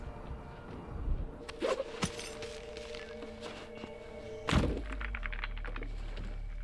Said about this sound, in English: That sound for the clacking ammo is actually really good.